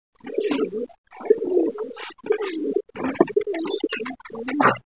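A pigeon, kept indoors while being treated for fever and a cold, coos in a string of close, loud bursts separated by short pauses, with no talk over it.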